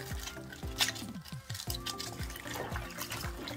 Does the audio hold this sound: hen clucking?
no